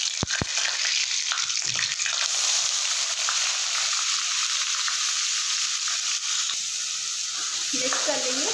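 Finely chopped onions, added to ginger already in the pan, fry for pav bhaji with a continuous close sizzle throughout. Faint stirring and scraping sounds come through near the end.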